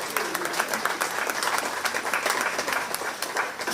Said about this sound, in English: Give them a great big round of applause as they head back.